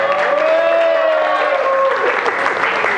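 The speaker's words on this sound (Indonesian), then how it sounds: "Tepuk tangan buat kita." A classroom of students claps together in a brief, steady burst of applause that stays loud and dense before fading slightly at the end.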